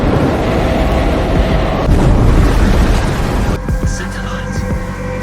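A boat engine explodes at sea in a loud, rumbling roar that fills the clip, a sustained blast of deep noise that swells, then thins into a lighter crackling hiss.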